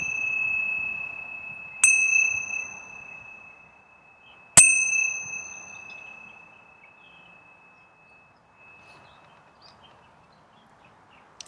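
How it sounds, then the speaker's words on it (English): A meditation bell is struck twice outdoors under trees, each bright ringing strike decaying slowly over a few seconds against a quiet background with faint birdsong. "preparing to open your eyes as I ring the bell"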